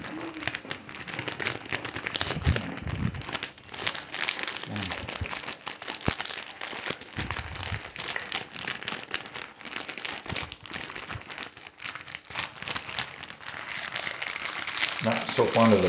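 Cookie packaging crinkles and rustles nearly nonstop as it is handled with one hand, a close, busy crackle that runs throughout.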